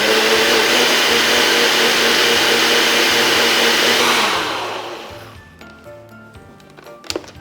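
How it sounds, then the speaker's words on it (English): A blender whirs loudly and steadily through creamy spinach garlic dip, then winds down over a couple of seconds, leaving quiet kitchen clatter and a brief clink at the end. "after we blend it, the whole thing just comes up"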